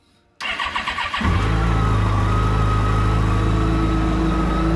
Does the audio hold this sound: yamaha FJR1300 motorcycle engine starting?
yes